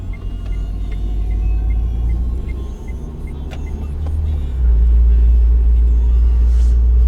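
A car driving at about 25 km/h in fourth gear, with a steady low engine rumble that deepens and grows louder around the downshift midway through, heard from inside the cabin with no talk.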